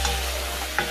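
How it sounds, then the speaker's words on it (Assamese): Half a kilo of chicken meat sizzling in oil with fried onions for a curry, stirred in the pan: a loud constant frying hiss with a low hum beneath and a couple of brief scraping stirs. "এতিয়া মাংসটো ভাজি আছোঁ।"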